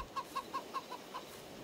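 Chickens on a Farming Simulator 22 farm coop cluck in a soft, evenly spaced series of about six short calls, fairly faint and alone with no talking.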